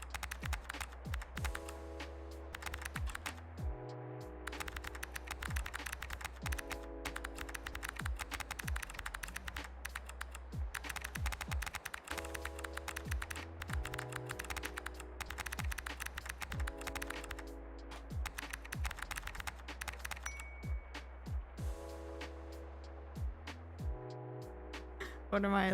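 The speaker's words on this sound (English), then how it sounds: "I'm playing a typing game" A computer keyboard clatters with steady, rapid keystrokes throughout a typing game, close and continuous, with faint background music beneath the taps.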